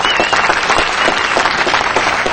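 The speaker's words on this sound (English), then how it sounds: "Let's have a round of applause." Loud applause from a crowd at a city council meeting, dense continuous clapping filling the whole stretch without pause.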